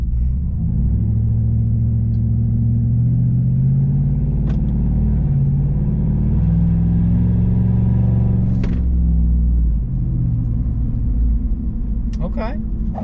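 A car exhaust with its valve open rumbles deep and loud throughout, a steady low drone with slight swells of revving, recorded close.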